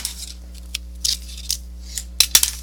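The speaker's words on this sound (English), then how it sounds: "I'll just simply take my scissors and follow the already made cut" Scissors snip paper along a pre-scored line while making a pop-up photo album, giving a series of short crisp cuts in bursts, with a quick double snip near the end over a steady low background hum.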